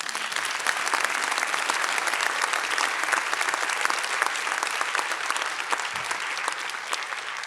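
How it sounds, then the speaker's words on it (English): Sustained applause from the audience at a scholarship awards celebration, a dense, steady wash of clapping hands lasting several seconds without a break, moderately distant. "A round of applause, please."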